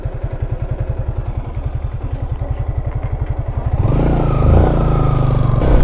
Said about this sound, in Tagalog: pag big bike yung gamit mo ditong motor, ang sarap mag banking